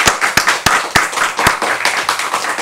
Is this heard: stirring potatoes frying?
no